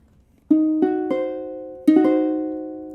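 A diminished chord played several times on a sustained, keyboard-like instrument, in separate struck attacks that ring on with clear harmonic tones, heard alone with no talking.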